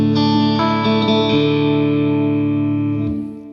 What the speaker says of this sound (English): It's more of an open distortion.